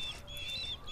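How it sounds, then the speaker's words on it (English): Bird call in the video game Far Cry, a faint, thin high-pitched whistling cry held over soft low background ambience, brief and distant. "Oh, a bird?"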